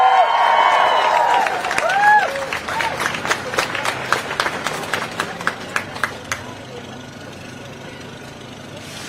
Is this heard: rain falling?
no